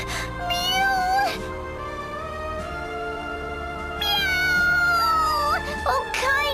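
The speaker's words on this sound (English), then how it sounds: "Mew! Mew!" Cat meowing in the Bravely Second: End Layer video game, rising and falling mews repeated a few times over a continuous game music background, fairly loud and close.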